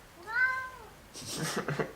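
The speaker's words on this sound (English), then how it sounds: "Oh no, it's a cat." A single drawn-out cat meow rises and falls clearly, followed by a burst of people talking and exclaiming over it.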